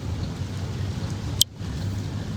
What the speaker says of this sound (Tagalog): Maulan-ulan pa masyado